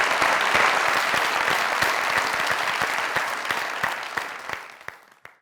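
A studio audience on the Pakistani comedy talk show Mazaq Raat claps in a dense burst of applause that holds steady, then thins and fades out over about five seconds.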